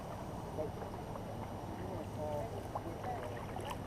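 Paddles splash and pull through the water as a crew drives a war canoe along, a steady wash of strokes close by, with people talking over it.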